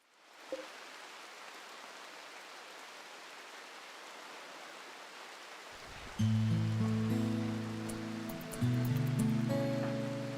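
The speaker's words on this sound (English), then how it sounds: "Heavy rain." Heavy rain in the video game RimWorld hisses steadily as a dense wash of noise, and loud game music with sustained tones joins partway through and continues over it.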